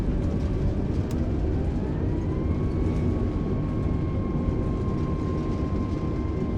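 Airbus A320 in Microsoft Flight Simulator landing in stormy weather with thrust reversers deployed, a loud continuous engine roar with a rising whine and heavy low rumble, steady throughout.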